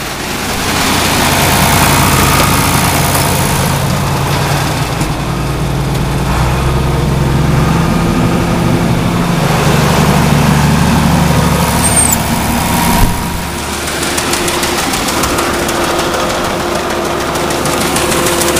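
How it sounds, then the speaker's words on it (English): A tractor engine idles continuously throughout with a steady, low rumble, a heavy diesel-like drone and no speech. "I want to throttle up the tractor a little bit more."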